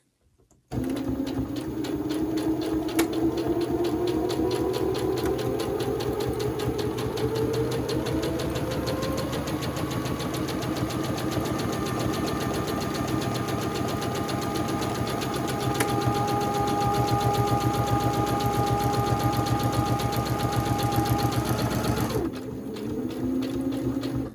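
A FEIYUE FYe350 heavy duty sewing machine stitches a buttonhole through interfaced fabric, a fast steady mechanical whirr and rattle running continuously for about twenty seconds, close and loud, with a slight pitch shift partway and no talking.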